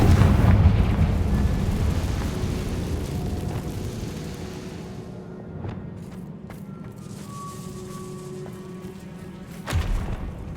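The Confringo fire spell bursts in Hogwarts Legacy gameplay, a heavy booming explosion that rumbles loudly at first and then dies away over several seconds, with a smaller thump near the end.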